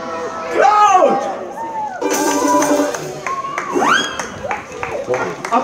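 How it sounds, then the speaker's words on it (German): Clapping from a street-festival audience in Oppenau, applauding children after a one-man-band set, rises amid a lively crowd and mixes with a voice that speaks and sings over it. "Applaus für die Kinder!"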